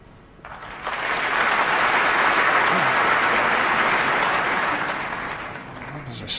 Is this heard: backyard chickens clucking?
no